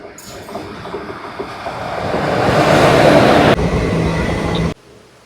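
Loud rumbling rush of a moving train from inside a carriage, swelling steadily, with a rattling clatter before it cuts off abruptly.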